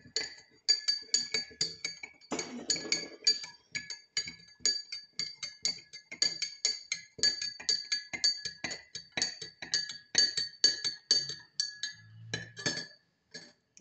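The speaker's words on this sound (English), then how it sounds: "You're gonna stir this for at least 1 minute and then set it aside." A spoon stirring salt in a glass: quick, regular clinks and ticks of metal against glass repeat steadily for the whole clip, close and crisp, with a brief scraping swirl near the start and a short low hum near the end.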